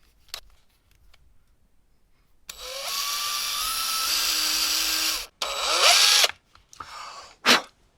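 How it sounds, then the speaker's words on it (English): A power drill bores into a guitar body to mount a Roland GK-3 pickup, a loud sustained whine for about three seconds, a brief pause, then a shorter rising burst, with small clicks around it. "Let's do a drilling here."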